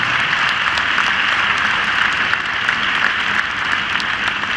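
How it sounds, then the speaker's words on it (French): Audience applause in an indoor show jumping arena for a Swiss rider at an international CSI5* competition in Bordeaux, a broad steady wash of clapping from a large crowd, sustained and even without pauses. "Et vos applaudissements à nouveau pour le cavalier suisse, Pius Schwitzer."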